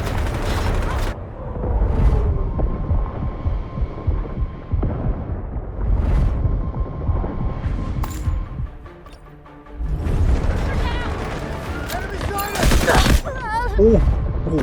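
Repeated bursts of gunfire and booming blasts in the Delta Force video game, loud and rolling across the scene, with a player talking over the action.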